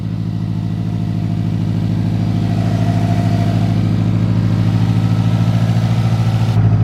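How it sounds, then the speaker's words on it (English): Close, steady idle of a car fitted with a Grimspeed cold air intake, an even low throbbing rumble that holds constant throughout without revving. "Let it idle for a bit."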